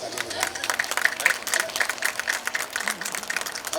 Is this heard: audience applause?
yes